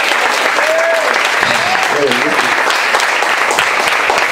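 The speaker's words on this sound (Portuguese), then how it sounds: "Quem crê nisso, dá uma salva de palmas bem alta." A church congregation at a youth retreat breaks into loud, sustained applause, dense clapping throughout, with voices calling out faintly beneath it.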